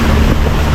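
Strong, cold spring water from Mount Banahaw gushes in a loud, steady broadband rush, close and continuous for the brief moment.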